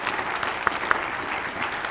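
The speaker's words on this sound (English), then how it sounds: "Can we have another round of applause for Dr. Carhart-Harris?" Conference audience applauding after a keynote talk on psychedelics, a short soft patter of clapping from a moderately distant crowd.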